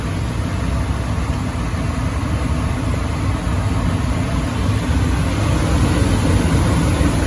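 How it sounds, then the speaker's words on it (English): An HVAC gas furnace's blower fan runs steadily after the burners light, a continuous broadband whoosh with a low rumble, loud and unbroken throughout with no talking. "Blower fan."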